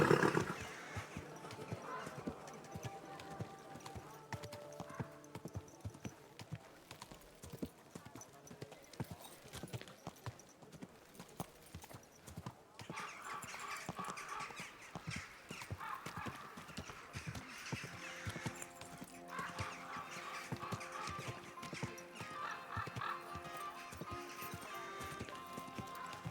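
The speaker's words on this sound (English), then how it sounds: "Easy, good horse." Horse hooves clip-clop steadily through a medieval world in Kingdom Come: Deliverance II, with occasional whinnies and neighs, over background music and ambient game sound for the whole stretch.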